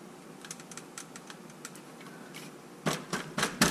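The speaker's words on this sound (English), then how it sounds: "I can hear the tape breaking loose already" Double-sided tape peeling loose inside an Arrma Kraton 8S RC car during receiver replacement, making soft, faint crackles and ticks that build into louder, sharper tearing bursts toward the end.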